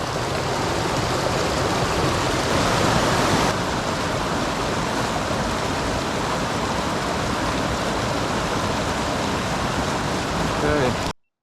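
A flowing trout stream rushes steadily and loudly nearby, a constant broadband wash with no clear breaks, cutting off abruptly at the very end.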